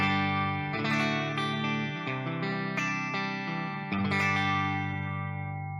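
Clean electric guitar through the Tank G amp modeler's clean preset with default IR and amp slot, sustained chords ringing out alone with a smooth, steady tone and a fresh strum near the end.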